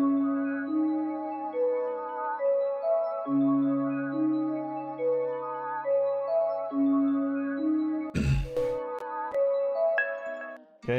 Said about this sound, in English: And so with those three bells, it sounds like this.